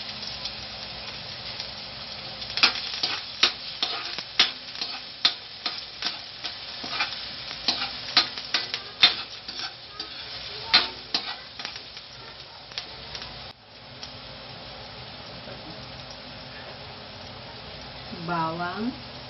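Onions sauté in cooking oil for Filipino ginisang patola, a soft continuous sizzle broken by frequent clicks and scrapes of a utensil stirring in the pan, with a brief voice near the end.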